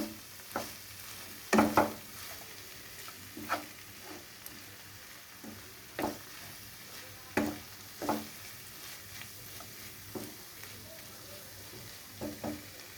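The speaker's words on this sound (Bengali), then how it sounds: "এবার আমি এটাকে খুব ভালো করে নাড়িয়ে নেব" Banana flower curry with ghee is stirred in a pan, a faint low sizzle beneath scattered spatula scrapes and knocks that come every second or two, quiet and close.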